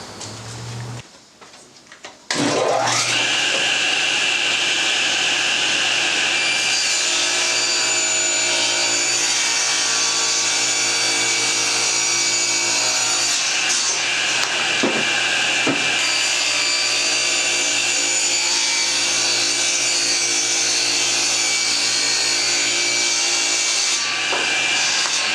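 A table saw rips a wooden board at a 5-degree bevel while building a window frame from scratch, a loud steady whine that runs for about twenty-two seconds after a brief quiet start, with a slight dip partway through.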